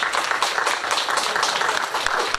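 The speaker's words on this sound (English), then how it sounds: "can we please give the Lady of Fun a big round of applause as she comes to" Audience clapping at a community bushfire appeal fundraiser, welcoming a woman called the Lady of Fun to the stage; a steady, moderately loud patter of many hands with no talk.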